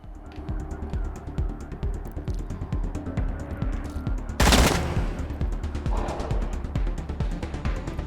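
Gunfire crackles in the video game Wasteland 3, with rapid bursts over a busy layer of combat effects and a loud, sharp volley near the middle of the clip.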